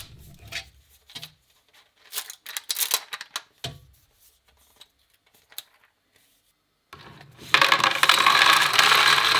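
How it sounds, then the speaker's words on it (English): A 3D printer printing winches in a workshop gives clicky mechanical ticks and small clatters, sparse at first and then a loud, steady broadband whir close to the microphone. "the 3D printer was busy printing all the winches."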